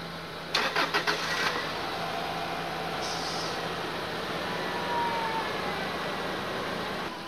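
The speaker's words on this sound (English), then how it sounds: "we've got the car with the dead battery started." A car with a dead battery, hooked up with jumper cables, cranks in a short burst and catches, settling into a faint, steady idle nearby.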